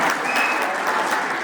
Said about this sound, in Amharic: ማበረታቻ አንድ ጭብጨባ ካደረጋችሁልን በኋላ